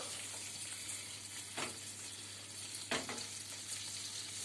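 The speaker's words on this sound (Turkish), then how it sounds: "Yağımız eriyor." Butter melting and sizzling in a pan for Black Sea-style mıhlama, a faint steady frying hiss with two brief louder bursts of spatter or stirring.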